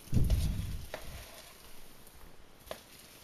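Food in a pan on a Jetboil Sol backpacking stove, mixed with a spoon: a close, loud burst of scraping and sizzle at the start, then a few quieter scrapes and taps as the stirring slows.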